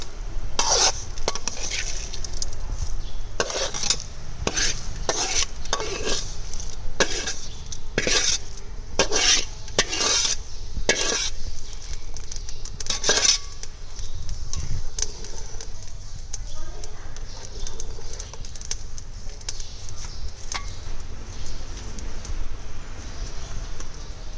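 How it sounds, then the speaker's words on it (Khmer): Toasted rice goes from a pan into simmering soup stock for Cambodian kroeung rice porridge and is stirred, with a run of sharp metal clinks and scrapes of a utensil against the pot over a steady background. "យើងយកអង្ករឆាអំបាញ់មិញដាក់ចូលក្នុងទឹកស៊ុប"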